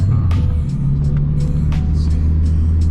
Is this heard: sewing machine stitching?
no